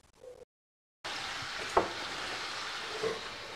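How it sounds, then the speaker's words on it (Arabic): Chicken and boiled chickpeas frying together in a pan, a steady sizzle after a brief silent gap, with a sharp stirring clatter in the middle and another softer one near the end. "راح نضيف أيضا الحميصة أو الحمص اللي كنا غليناه مسبقا للدجاج، وراح نخليهم يتقلاو مع بعض"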